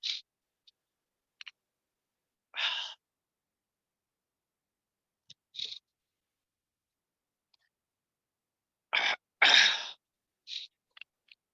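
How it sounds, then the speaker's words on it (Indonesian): A person sneezes several times, sharp close bursts spread apart with a louder double sneeze near the end and quiet pauses between, no talking. "Sorry, bersin."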